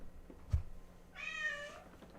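A pet cat lets out a single drawn-out meow, fairly faint and a short way off in a quiet room, after a soft thump, with no one speaking.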